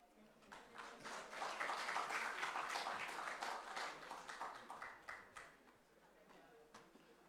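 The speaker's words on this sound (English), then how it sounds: "another round of applause for Superintendent Mrs. Effia Tenge, retired" A crowd at a National Youth Parliament mock sitting in Ghana applauds, swelling quickly into steady clapping, then thinning to scattered claps before fading out.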